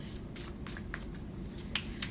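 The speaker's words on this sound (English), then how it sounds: "So I'm going to go ahead and shuffle these." An oracle card deck is shuffled by hand, giving soft, quick papery riffles and flicks in short bursts, faint and close, with no talk.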